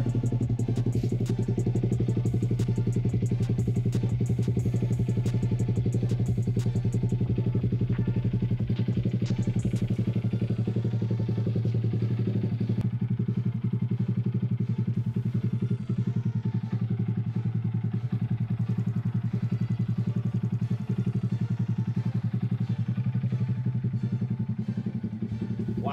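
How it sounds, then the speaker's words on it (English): A Honda Grom motorcycle fitted with a Leo Vince exhaust idles steadily and up close, a throaty, even low burble that holds for the whole stretch, with light mechanical clatter on top. "this is the first startup of the Leo Vinci exhaust"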